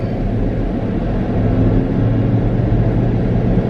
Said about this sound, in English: listen to this car in front of me.